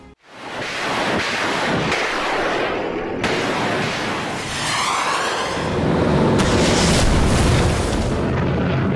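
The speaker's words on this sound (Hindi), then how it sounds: "यूक्रेन पर रूस की तरफ से धुआंधार मिसाइलें छोड़ी जा रही हैं।" War news footage of Russian missile and artillery fire on Ukraine: a dense, continuous roar of blasts and rumbling booms, loud and sustained, with no clear pauses and no speech.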